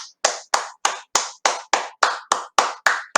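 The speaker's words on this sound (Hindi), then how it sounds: "आप अपने लिए जोरदार ताली।" An audience claps in unison, producing about a dozen sharp, loud, evenly timed claps in a steady rhythm with near silence between them.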